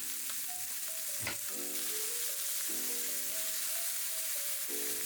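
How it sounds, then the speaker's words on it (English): Meat browns for a pork stew with potatoes, a steady low sizzle and occasional stir, with faint tuneful tones drifting over it. "Browning your meat will enhance the flavor and of course the color."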